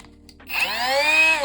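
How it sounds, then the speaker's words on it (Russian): A cordless mini angle grinder whines up sharply after a brief pause, then a loud, steady high-pitched screech as it cuts a steel bar close by, on battery at maximum. "Пару раз болгарка ушла у меня в защиту, видимо, от сильного нажима."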